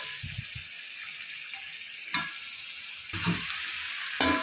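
Chicken pieces with turmeric sizzle quietly in a pan for chicken kurma while a utensil scrapes and clacks against it a few times, close by, with no talking.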